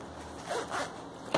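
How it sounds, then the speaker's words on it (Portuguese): A zipper pulled along a sewn waterproof oral hygiene pouch, two quick close rasping strokes followed by a sharp final zip, quiet and alone. "o zíper funcionando direitinho"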